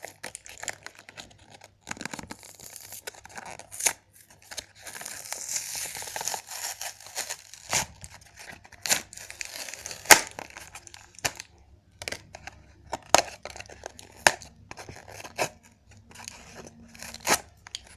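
Plastic and cardboard packaging of a My Little Pony toy is torn and crinkled open with a pen, giving close, irregular bursts of rustling, snapping and scratching.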